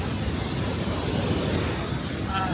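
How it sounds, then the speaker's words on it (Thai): Pha Dok Siao waterfall at Doi Inthanon, Thailand, water plunging down with great force, gives a steady, dense, loud rushing roar that stays constant throughout. "แบ็กกราวด้านหลังเป็นน้ำตกที่พุ่งลงมา แรงมาก น้ำตกผาดอกเซี่ยวอลังการสมคำล่ำลือครับ"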